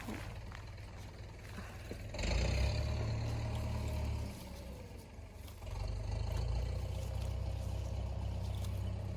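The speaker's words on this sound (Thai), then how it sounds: "ได้ยินเสียงรถไถปะ" A steady, rumbling tractor engine drones close by throughout in a forest in Finland, swelling louder in two stretches as the tractor works nearby, with no talk over it.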